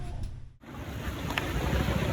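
Strong wind blows outdoors beside water, a steady rushing roar with a brief dip, close and continuous, with no one talking.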